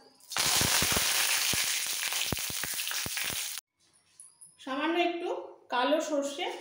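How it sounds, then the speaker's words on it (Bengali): Two dried red chillies dropped into hot mustard oil in a kadai for tempering, giving a loud steady sizzle with sharp crackles for a few seconds before it cuts off, followed by someone speaking. "কড়াই গরম হয়ে গেছে, দিয়ে দেবো সর্ষের তেল। এবার এর মধ্যে দিয়ে দিচ্ছি দুটো শুকনো লঙ্কা"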